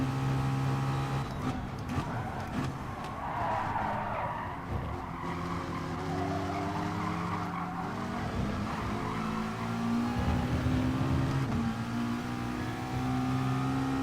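A McLaren race car in a racing video game, FIA Manufacturer Series at Brands Hatch, holds a loud, steady engine drone with shifting pitch and bursts of tire skidding throughout, no voices.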